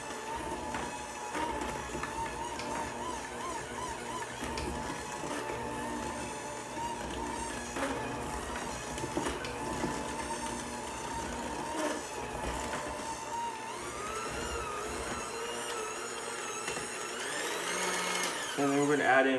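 Electric mixer whirring through sour cream pound cake batter, a continuous motor hum with shifting grinding texture, fairly quiet, with a voice talking over it at times.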